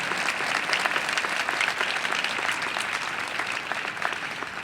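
A commencement audience applauds the finalists for an outstanding graduating senior award, producing steady, dense clapping from a large hall crowd that stays even and fairly loud throughout.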